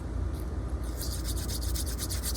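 Rapid, rhythmic rasping strokes of an emery board being rubbed back and forth on a motorized wind turbine model part, close and steady over a low background hum.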